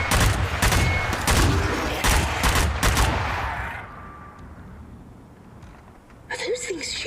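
Rapid volleys of video-game gunfire from zombie enemies in Zombie Army crackle loudly for several seconds, then fade into quieter ambience before a short burst of fresh shots near the end; speech is present.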